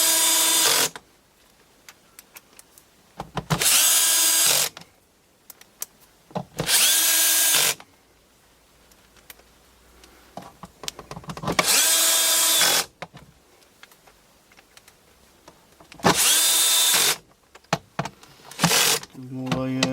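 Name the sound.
power drill tightening screws on Bosch washing machine door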